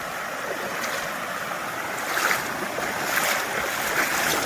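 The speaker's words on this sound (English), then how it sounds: "The water's powerful right here. Yeah, the whole stream is being diverted this way." A powerful stream rushes through a wooded Georgia creek where the current is being diverted toward a gravel bar, giving a continuous broad wash of flowing water that swells a little partway through, with no voices.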